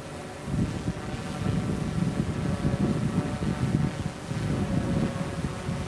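Wind buffets a microphone outdoors near a flying hexacopter drone, a continuous low rushing rumble that swells and dips in gusts, with no talk.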